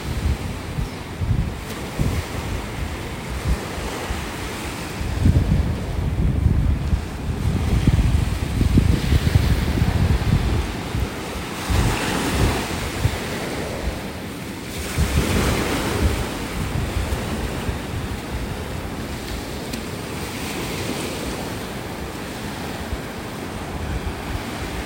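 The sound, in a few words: ocean waves breaking on beach with wind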